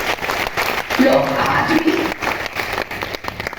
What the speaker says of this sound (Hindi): तालियां बजती हैं इसके लिए।